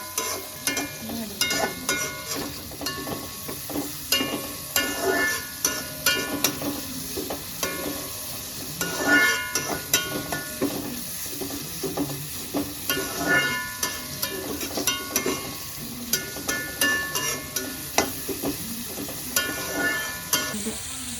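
Onions sizzle in hot coconut oil while a spoon stirs and scrapes at a steady, irregular pace, close up and moderately loud.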